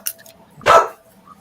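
A dog lets out one loud, close bark after a faint earlier yip, then the room goes quiet.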